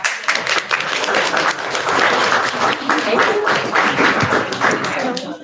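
An audience at a program preview event gives a round of applause, dense sustained clapping that fills the room and tapers at the end, with some voices mixed in.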